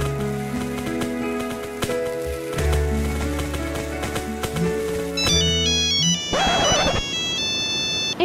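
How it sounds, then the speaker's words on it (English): Cell phone ringtone going off inside the Roblox game Brookhaven, a loud, steady melodic jingle of repeating synth tones that plays continuously over game music and swells near the end. "Isn't that my ringtone?"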